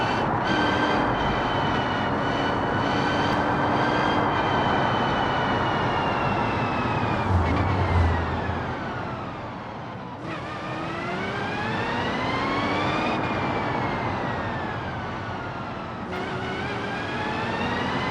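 Ford Mustang engine in BeamNG.drive revving and shifting while driving, a loud sustained engine tone rising in pitch, dropping at gear changes around the middle, then climbing again.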